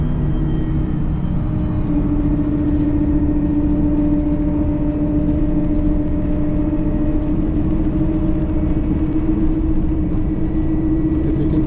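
A bus travels quickly along a motorway in heavy traffic between Albany and Auckland central, a steady engine drone and road rumble heard from inside the cabin, continuous and unbroken.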